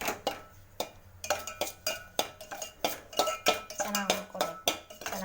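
A metal utensil scrapes and clinks against a pan while semolina (rava) roasts over a low flame, giving irregular, close taps and scrapes at a fairly quiet level.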